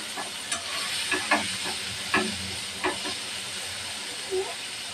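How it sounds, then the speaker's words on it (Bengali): Chopped onions fry in hot oil for a fish dish, giving a constant sizzling hiss broken by several sharp scrapes and clicks of stirring spaced through the clip. "পেঁয়াজটা ভালোভাবে ভাজা নেব।"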